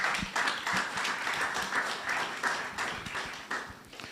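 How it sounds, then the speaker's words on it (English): An audience at a Falling Walls Lab event in Ghana claps for the chairman, a sustained even patter of applause lasting several seconds with no talk over it. "Can we give our chairman a big round of applause?"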